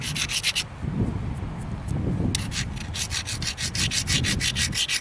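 Rhythmic back-and-forth rasping as a mookaite flint point platform is ground with a grinder, close and steady with repeated strokes and brief pauses, no talking.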